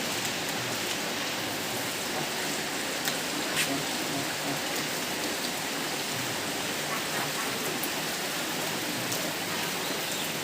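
Steady rain falls during a Goru Bihu cattle-bathing tradition outdoors, a dense continuous hiss of drops without a break, fairly loud and close.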